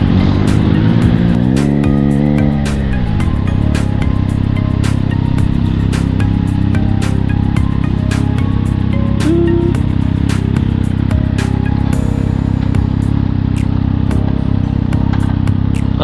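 A motorcycle rides along on the way to school, its engine droning loud and close with constant wind rumble, a brief rev in pitch early on and light rattles and clicks throughout.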